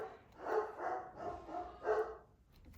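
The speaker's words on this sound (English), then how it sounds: "my dogs are going to go crazy for a minute." Several dogs bark in a burst of four loud, close yaps spaced about half a second apart, with no talking over them.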